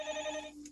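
A telephone rings indoors during a university ceremony speech in a Korean literature department hall: a steady electronic ringing tone, fairly loud and close, running for nearly the whole moment before cutting off, with no one talking over it.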